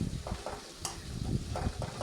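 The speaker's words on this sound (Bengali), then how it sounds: "পেঁয়াজটাকে গোটা গরম মশলা, শুকনো লঙ্কা, তেজপাতা, গোটা জিরের সাথে এভাবেই কিছুক্ষণ নেড়ে ছেড়ে নেব।" Onion stir-frying in a pan with whole garam masala, dried chilli, bay leaf and cumin gives a quiet, close sizzle broken by a few soft scraping strokes of a spatula.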